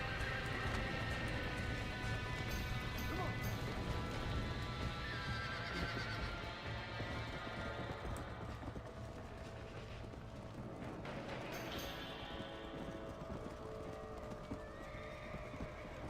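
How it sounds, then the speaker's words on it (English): Horse hooves clip-clopping at a gallop with a neighing whinny in the Red Dead Redemption video game, the rhythmic hoofbeats running continuously amid game background noise, fairly faint overall. "I want to ride the horse."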